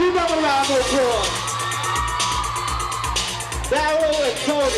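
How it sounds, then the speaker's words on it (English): An outdoor concert crowd in a Chicago park cheers and whoops loudly, with shouts rising over a steady wash of crowd noise and a faint musical drone underneath. "Give them a round of applause."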